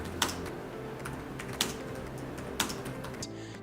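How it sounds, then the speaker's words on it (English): Keystrokes on a Dell XPS laptop keyboard, a few distinct taps spaced roughly a second apart over a low steady background hum, close and fairly quiet. "The XPS keyboard is great,"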